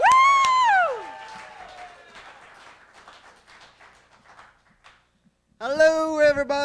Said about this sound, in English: Let's give a big round of applause for your next com